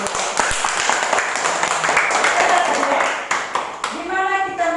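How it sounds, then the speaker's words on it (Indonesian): Classroom hands clapping during a school teaching session, a dense burst of many claps from students, fairly close and steady before tapering, with voices mixed in underneath. "Oke, tepuk tangan dulu."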